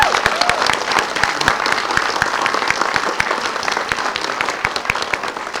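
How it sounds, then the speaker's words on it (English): A room at an education press conference applauds a department team, a steady, fairly loud spread of many hands clapping for several seconds without talk. "would you all give my team a round of applause?"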